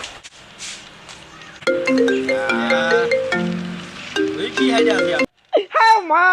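A phone ringtone plays a melodic electronic tune for several seconds, loud and close, then cuts off abruptly as a voice starts speaking.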